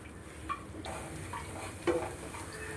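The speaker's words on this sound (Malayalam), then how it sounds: "അതിന് വേണ്ടി ഒരു 2 സ്പൂണ് മുളക് പൊടി അതിലേക്ക് ഇട്ട് കൊടുത്ത് അതൊന്ന് ചൂടാക്കി എടുക്കുക" Chili powder heating in a pan on a low flame for an Onam sadya pickle, a soft continuous frying hiss with a couple of light scrapes and taps of a spoon against the pan.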